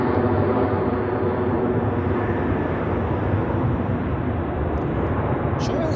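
Air Europa airliner taxiing at Zurich Airport on a winter day, a steady broad engine roar that holds evenly throughout, with a voice talking over it.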